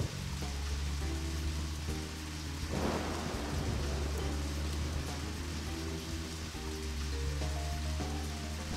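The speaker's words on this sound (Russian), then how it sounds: "Дождь на улице, все спят." Steady rainfall hisses continuously in the video game Deadly Premonition, with a low rumble beneath, a soft swell of noise partway through, and a faint tonal hum underneath.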